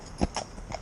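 Shire horse hooves striking the ground in a few distinct clip-clops, close and fairly loud, with an uneven rhythm and no voices.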